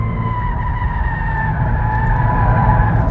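Tires on a Kia K5 1.6 turbo GDi, a front-wheel-drive sedan, squeal while cornering hard on a test drive: a loud, sustained high-pitched screech with a steady tone over low engine and road rumble, no talk.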